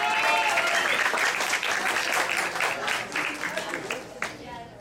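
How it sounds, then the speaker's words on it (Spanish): Audience applause fills the room at a jazz club gig after a jazz band finishes a song, a loud, dense wash of clapping that holds steady before thinning slightly toward the end. "¡Un aplauso, hombre!"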